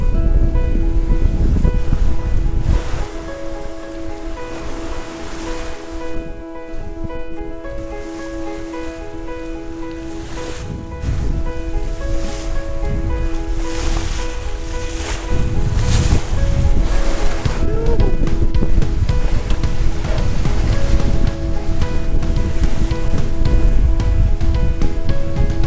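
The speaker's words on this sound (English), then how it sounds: "We do have some wind!" Strong wind of about 16 knots roars across the microphone while waves wash and slap against a sailboat under sail, a loud continuous rushing with swelling gusts throughout.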